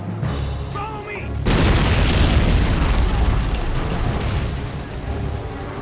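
Air strike bombs blast in Men of War: Assault Squad, a sudden heavy explosion giving way to a long, loud rumbling roar of continued detonations, with a voice briefly heard before the blast.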